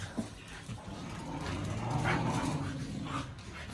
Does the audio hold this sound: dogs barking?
yes